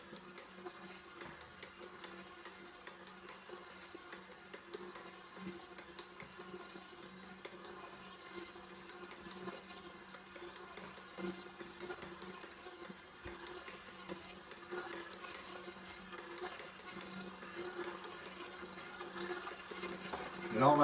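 A stand mixer turns slowly on first speed, kneading soft brioche dough with a steady, quiet motor hum and faint rhythmic knocking, running alone for a long stretch.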